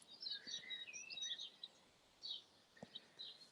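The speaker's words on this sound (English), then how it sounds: "You can hear all the birds." Small birds chirp and sing on a clear, cool morning in rural France, with scattered high twittering phrases, fairly faint and at a distance over quiet ambience.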